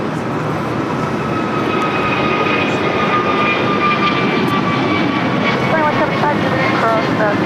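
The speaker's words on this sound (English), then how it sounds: "This is American Airlines 2863 taking off to Philadelphia on an A321neo." American Airlines A321neo jet taking off at LAX, a loud steady engine roar with rising whine tones filling the whole stretch, close and continuous, with some chatter mixed beneath.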